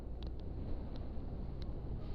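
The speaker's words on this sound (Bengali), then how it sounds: "কিন্তু বাতাস ঢুকছে তো কোথায় দিয়ে জানি" Wind roars past the helmet of a rider on a motorbike along a two-lane road, a low, steady buffeting rumble with a few faint ticks over it and no talk.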